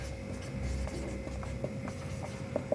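Observations being written down on paper, a soft scratchy stroking with a few sharper taps, close and quiet over a faint steady hum.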